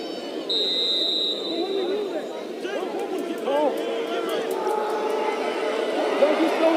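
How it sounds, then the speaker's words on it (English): A college football stadium crowd at a Tennessee State versus Charleston Southern game lets out a steady, far-off wash of boos and jeers, sustained throughout with a broadcast announcer talking over it. "Now he backs out to some boos from the crowd here."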